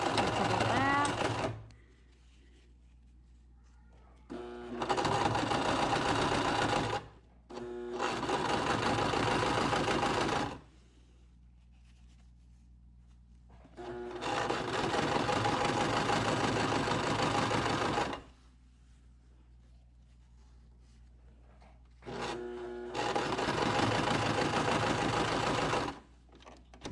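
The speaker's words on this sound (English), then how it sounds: "Do a couple stitches forward, a couple back." A sewing machine stitches fabric for a tie face mask in several loud whirring bursts of a few seconds each, separated by quiet pauses, with a person talking in between.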